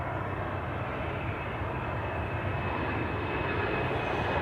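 Embraer 190 jet bound for Luxembourg at Amsterdam Schiphol, a steady, faint broadband engine rumble continuing evenly with no talk.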